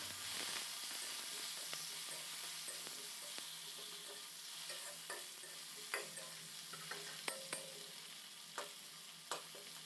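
Chopped tomato sizzles softly in a pan alongside fried onions. The quiet, steady frying hiss is broken by small clicks and taps of stirring near the end.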